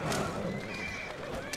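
A horse whinnies in Assassin's Creed Syndicate, a short, continuous call running over steady hoof clatter and street noise, fairly close and moderately loud.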